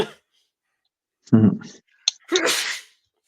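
A single sharp sneeze, preceded by a short burst of speech and a quick click, in an otherwise quiet room.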